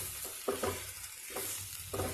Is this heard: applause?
no